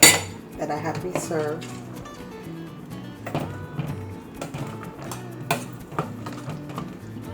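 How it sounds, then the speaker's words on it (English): A spoon scrapes and clinks against a metal pot as milk is stirred for homemade mac and cheese. The knocks are irregular and close, with a faint tonal ringing and no speech. "Stir good. Make sure nothing's stuck to the bottom."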